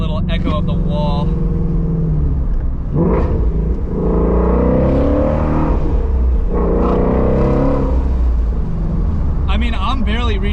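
A 2017 Ford Mustang Shelby GT350 with traction control off in track mode, its exhaust revving in loud rising and falling surges up to about 5,000 RPM, echoing off a wall, with someone talking over it.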